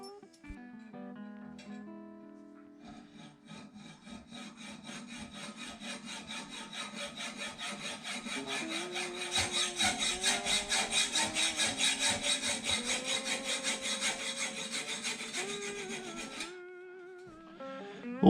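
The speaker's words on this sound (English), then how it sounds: "the bolts I have for bolting it in, slightly too long, so I'll cut these off." Overlong steel mounting bolts for a homemade truck camper being cut off with a hand saw, a steady rasping back-and-forth stroke that quickens and grows louder toward the middle before stopping, close and without talk.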